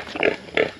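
Free-range pigs on a countryside farm grunt twice in a short burst, close and moderately loud, with no talk.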